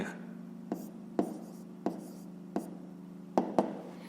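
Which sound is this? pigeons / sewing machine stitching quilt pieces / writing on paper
writing on paper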